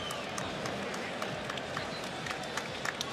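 A fight crowd on its feet after a title bout cheers and applauds in a dense distant roar, scattered claps poking through, while a commentator talks over it.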